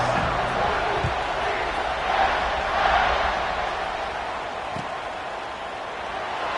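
Football stadium crowd at a Georgia Tech versus UCF game before a kickoff, a broad distant roar that swells and fades with a faint whoop or two, spread evenly under the arena ambience.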